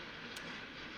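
A slow freight train of coal cars rolls past at about ten miles an hour, a steady close rumble of wagons with no talking.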